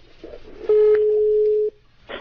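A phone call placed on a Telcel line that goes unanswered gives a single steady tone lasting about a second, with brief muffled sounds before and after it.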